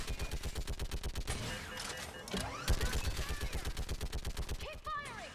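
Rapid, steady turret gunfire in Mass Effect 3, a loud continuous stream of evenly spaced shots that keeps going with only a brief dip, with chirping electronic effects near the end.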